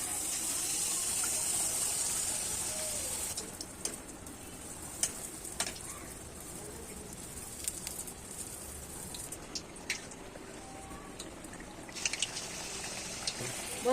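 Mango malpua batter dropped into hot oil, giving a steady close sizzle with scattered crackles and pops, and a voice talking faintly at times.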